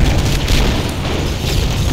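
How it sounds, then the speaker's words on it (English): Loud, dense booming explosions in Halo: Combat Evolved roll continuously, a thick rumbling barrage with no pauses. "Oh my, whoa, man, the explosions."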